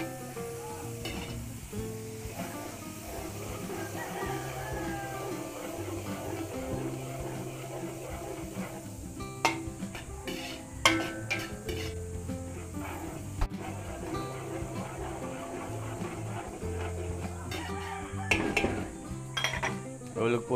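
Chorizo and onion sizzle in a pan at a Filipino provincial fiesta, with a steady frying hiss under scattered clinks and scrapes of a utensil stirring against the metal, and faint voices in the background.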